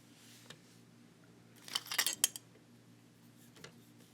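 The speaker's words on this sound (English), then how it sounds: "Now I'm just going to go through a couple more of these beads and trim this extra thread." Small scissors snip extra beading thread on a bronze daisy bracelet, a quick cluster of faint close clicks over a quiet hum.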